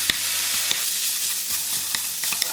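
Fish cake stir-fried in oil with soy sauce, rice syrup, garlic, sesame oil and sesame seeds crackles in a continuous close sizzle, with light taps and scrapes from a utensil and sharp spattering pops scattered throughout.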